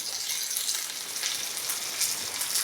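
Sardines frying in masala in a pan, giving a continuous, fairly loud crackling sizzle that stays even throughout with no voices.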